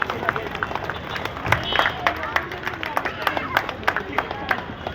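An audience claps steadily at a dance competition, a dense, continuous patter of many hands with crowd murmur and an announcer's voice over it.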